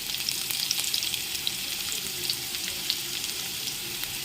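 Garlic cloves and asafoetida frying in oil give a bright, continuous sizzle with small crackling pops, close and steady throughout, alone without speech.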